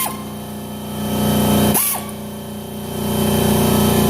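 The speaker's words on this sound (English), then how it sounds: "This is the air ratchet." A pneumatic air ratchet runs off a Husky 30-gallon air compressor with a steady, loud whir, broken by a short trigger pause before the whirring resumes.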